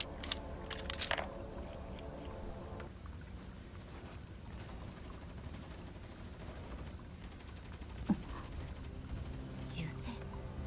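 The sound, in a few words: gunfire in the video game Girls' Frontline 2: Exilium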